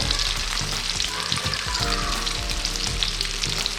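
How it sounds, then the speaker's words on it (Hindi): Egg-coated fish frying in hot oil, a steady close sizzle with crackling pops and occasional stirring scrapes throughout. "ये देखो ये फ्राई हो रहा है"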